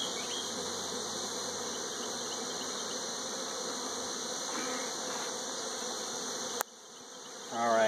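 Bees buzz around a beehive in a dense, continuous drone that stays steady up close, then cuts off abruptly near the end, leaving only a faint hum.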